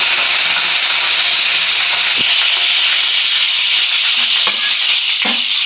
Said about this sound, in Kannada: ಈಗ ಕರಿಬೇವಿನ ಸೊಪ್ಪು ಹಾಕ್ತಾ ಇದ್ದೀನಿ